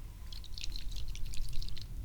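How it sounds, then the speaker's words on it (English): Water drips inside a hairbrush, giving a run of small, quick, irregular ticks and patters up close over a low background rumble, with no voices. "Oh, now it's dripping."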